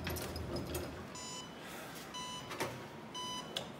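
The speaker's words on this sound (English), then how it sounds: "We're beeping." A SciCan StatClave G4 autoclave beeps in short repeated bursts of high tones over a steady machine hum, with no talking.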